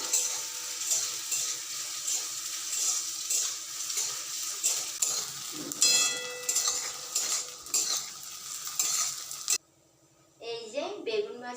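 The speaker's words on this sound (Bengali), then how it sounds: "হয়ে গেছে এখন বেগুন ভাজাটা থালে তুলে রাখছি" Eggplant fries in hot oil in a pan, its sizzle mixing with stirring, utensil scrapes and metal clinks. The sound cuts off briefly near the end, then other kitchen noise follows.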